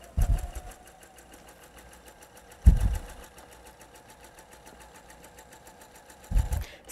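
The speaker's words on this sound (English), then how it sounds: "sewing onto my strip set" A sewing machine stitches a quilt strip set for a rail fence block. A steady, fairly quiet mechanical hum runs throughout, with three louder thumping bursts as stitching starts and stops.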